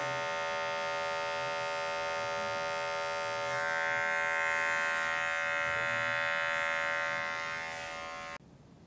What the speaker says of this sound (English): Just gonna come through and finesse with the clipper over comb technique.